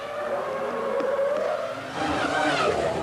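A Formula One car driven by Coulthard during 2000 qualifying, its high engine whine steady and close, rising toward the end, with no voices.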